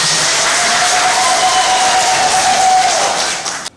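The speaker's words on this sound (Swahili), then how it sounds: "Tupige makofi mawasiliano." An audience applauding loudly and steadily, dense clapping that holds for a few seconds and then tapers off abruptly at the end.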